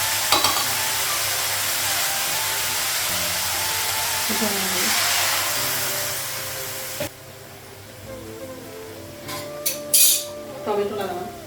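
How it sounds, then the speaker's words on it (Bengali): Cabbage cooks in a pan with a loud, steady sizzle that cuts off abruptly, followed by quieter clinks of utensils and brief kitchen clatter, with someone talking at points. "বাঁধাকপিটা হাফ রান্না করছি আর হাফ করে দিয়ে দেবো।"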